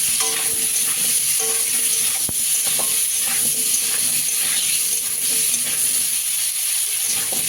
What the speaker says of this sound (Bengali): নতুন আলু আর কচি, একদম কচি ওলকপি ভালো করে একটু ভেজে নেব।